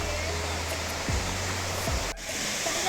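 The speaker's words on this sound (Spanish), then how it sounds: "mirad, todas estas cascadas tan bonitas" Waterfalls at the Santa Rosa de Cabal hot springs in Colombia produce a steady, loud broadband roar of falling water that continues without a break, with a short dip near the end.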